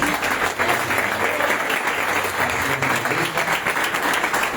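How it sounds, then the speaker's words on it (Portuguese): Church congress congregation applauding for the Lord Jesus, a dense, steady wash of many hands clapping at close range that holds evenly throughout. "Você pode aplaudir ao Senhor Jesus?"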